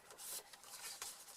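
A guillotine paper trimmer slices through paper in a quiet crafting setting. Several soft, short rasping strokes follow one another over about a second and a half, with no talk.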